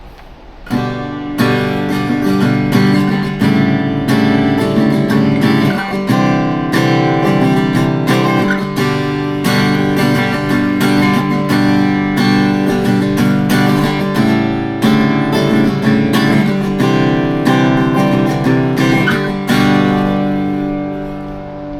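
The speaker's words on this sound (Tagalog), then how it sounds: "yung tunog ng strumming niya" An RJ Guitar acoustic guitar strummed in a steady rhythm, bright chords ringing close and loud, with no voices throughout.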